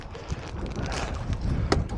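Wind buffeting a fishing boat at sea off the UK, a steady close rush of gusty noise with faint knocks and creaks on board, no talk.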